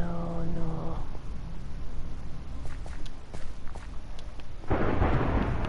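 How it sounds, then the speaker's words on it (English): Minecraft thunder rumbles low and heavy outside while in-game footsteps and block sounds patter in the foreground, with a louder rolling crack building near the end. "We are truly lost and it's thundering outside."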